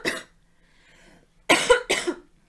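A person coughs once sharply, then after a quiet pause gives two more loud, harsh coughs in quick succession, close to the microphone.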